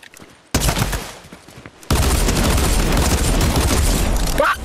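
Rapid bursts of gunfire in Fortnite Creative, beginning with a short volley and then a loud, sustained automatic barrage that dominates the soundscape at close range.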